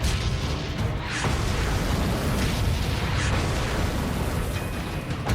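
A tank struck by a round in a desert armored battle, heard as a loud, dense rumbling blast that fills the whole clip with heavy low roar and crackling debris, with no talk.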